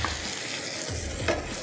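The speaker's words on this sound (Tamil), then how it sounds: "புளி தண்ணியை இதோட ஆட் பண்ணி கொதிக்க விடலாம்." Tamarind water poured into a simmering tomato masala and stirred in a pan, giving a steady close sizzle with a couple of brief stirring scrapes and no talk.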